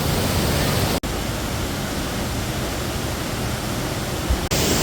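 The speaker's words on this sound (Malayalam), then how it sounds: "വെള്ളച്ചാട്ടം കണ്ടേ." A waterfall beside the Idukki–Kattappana road, a steady broadband roar of falling water, loud and continuous, broken by two brief dropouts.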